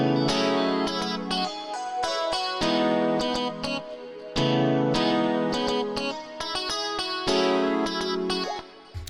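A clavichord-style keyboard patch blended with a vocoder-like sample plays in full inside a 2000s R&B beat, dense and steady with rhythmic chord stabs and brief dropouts, loud throughout with no talking.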